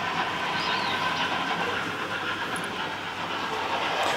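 A model railway train runs steadily along the track in a home layout, giving a continuous close rolling hiss and faint clatter at even loudness throughout, with no talking.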